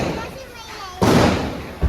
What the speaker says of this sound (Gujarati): બીડી બોમ્બ ફોડો છે